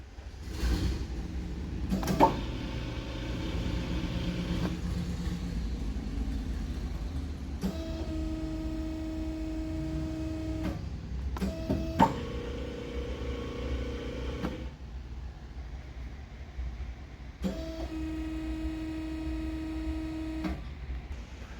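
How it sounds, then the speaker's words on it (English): Hydraulic system on an RD1700H locking and unlocking: several distinct clunks followed by humming, droning bursts that start and stop in separate segments over a low steady machine background. "you can also hear the hydraulics locking and unlocking"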